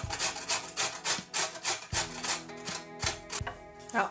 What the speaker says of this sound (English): this coconut, you can still use grater to grate it.